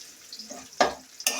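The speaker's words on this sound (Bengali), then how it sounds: "লাল লাল করে ভেজে নিব।" Spices and aromatics for a drumstick dal tempering frying in hot oil in a village kitchen, brief crackling sizzle bursts with stirring, close and fairly quiet, no talking.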